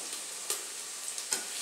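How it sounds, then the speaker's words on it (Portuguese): Onion and garlic fry in a pan with dried meat, giving a steady bright sizzle with a few louder crackling stirs, close and unaccompanied by talk. "a cebola e o alho aqui, tá, na panela, pra refogar junto com a carne seca"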